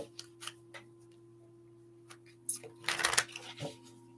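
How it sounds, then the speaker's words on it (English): Panther Oracle tarot cards get a quiet shuffle. Scattered soft ticks and riffling flicks build into a brief flurry of card noise over a low steady hum, with no voice. "Just give them a good shuffle."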